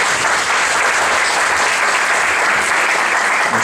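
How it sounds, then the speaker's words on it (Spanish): Loud, dense applause from an audience at a university event honoring magistrates, a steady wash of many hands clapping without a break and with no voices. "Damos un fuerte aplauso a los señores magistrados."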